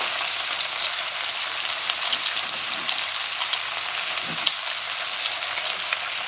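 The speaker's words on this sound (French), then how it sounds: "on fait revenir nos morceaux de collier à feu assez fort sur les deux faces" Lamb collar pieces and onion searing over fairly high heat in hot oil, a steady, dense hiss of frying that holds level throughout, close and loud, with a few faint bumps and no voices.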